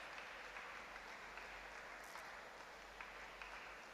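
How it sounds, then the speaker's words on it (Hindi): An audience at a university yogasana competition in Bengaluru claps steadily and faintly throughout, a continuous far-off patter of applause with no voices. "यहाँ पर तालियां बजाकर इनका उत्साह बढ़ाया जा रहा है"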